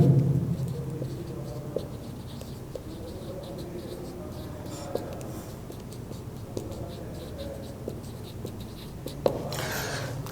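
Faint scratching of pen or chalk during a Pakistan Studies lecture, with soft intermittent ticks and taps over a quiet room hum, no voice heard.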